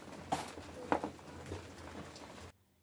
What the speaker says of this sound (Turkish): Yağmur yağıyor.